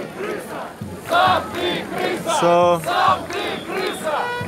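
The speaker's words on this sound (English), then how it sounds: "maybe let's see if we can get through this crowd." Crowd of protesters filling a road in Minsk, Belarus, a dense group chanting in loud rhythmic unison, the chants rising and falling close by in repeated waves, with one voice speaking briefly at the start.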